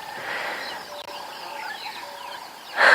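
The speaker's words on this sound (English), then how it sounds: "we can hear quite a lot of other birds, especially down into the drainage line on the other side" Birds at a safari dam at sunrise chirp and call in a soft mixed chorus at a distance, with a louder burst near the end.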